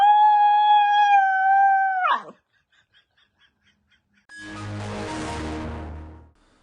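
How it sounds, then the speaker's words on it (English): A dog gives one long, steady howl that bends downward at the end. A short silence follows, then a separate rumbling noise. "or maybe a dog that makes this noise."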